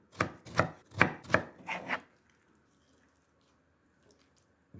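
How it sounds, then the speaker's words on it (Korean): Kimchi chopped finely with a knife on a board for a soybean-pulp stew: five quick, solid cutting thuds in a brisk rhythm over about two seconds, followed by near silence. "머리도 넣으면 맛있으니까 좀 쏭쏭 썰어 줄게요."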